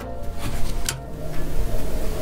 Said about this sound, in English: We should hear a fuel pump.